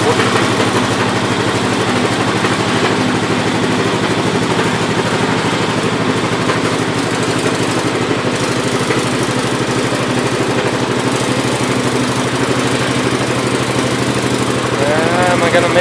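A 1974 Gravely 812 walk-behind tractor engine runs in low range first gear, a loud, steady, close mechanical drone that holds without a break throughout, with some talking over it.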